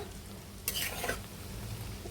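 A crispy noodle basket fries in hot oil with a low, steady sizzle and a brief louder burst of crackling partway through; no voices.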